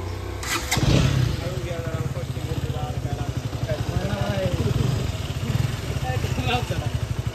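A KTM motorcycle engine cranks and fires up close by early on, then settles into a steady, throbbing idle that runs to the end while people talk over it.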